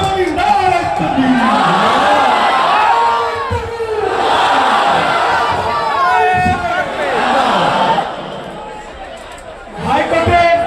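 A huge rally crowd at a Babri mosque event roars and chants in waves, swelling and dipping with loud collective shouts, while a voice addresses the gathering through amplification.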